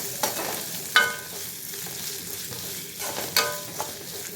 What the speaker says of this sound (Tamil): ஒரு நிமிஷம் வதங்கின பிறகு வெங்காயம் சேர்த்துக்கலாம்.